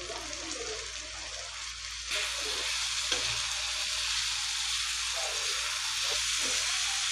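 Tomatoes and capsicum tossed into frying onion and garlic for masala pav give a steady, loud sizzle and hiss with occasional stirring scrapes, rising slightly in intensity as the vegetables hit the pan.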